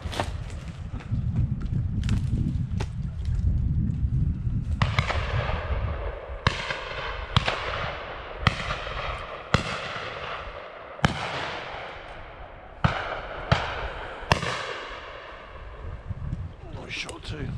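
At a pheasant and partridge shoot, about a dozen sharp shotgun shots crack at irregular intervals, some nearby and some more distant, each ringing out with a short echo over wind noise and scattered voices.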